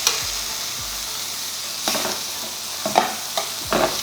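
Sirloin steak searing in a pan with garlic butter gives a steady broadband sizzle, with a few louder bursts and scrapes as the meat settles and shifts, close and alone with no talking.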